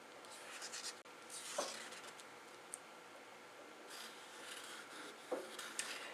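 A paintbrush scrapes and rubs over Bristol paper in short, soft strokes, a faint close scratching with a few small taps in a quiet room.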